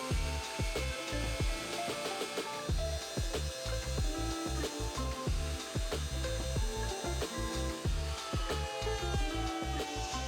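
Wooden van kitchen cabinets are sanded by hand with sandpaper in quick rhythmic rasping strokes, close and continuous, with no talking.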